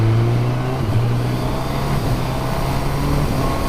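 A 2019 Honda CB1000R motorcycle accelerates with its quick shifter, the engine droning steadily and loud with a brief dip in pitch near the start, wind rush under it.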